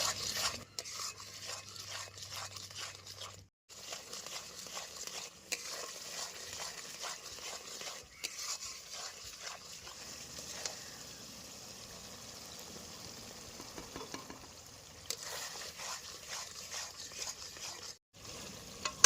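Steady scraping and rasping of ground spices with salt being stirred and fried in a pan, with faint sizzling underneath and brief pauses between strokes.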